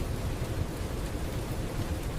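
Steady rain falls in an even, dense hiss with a low rumbling undertone, continuous and unbroken, with no voices.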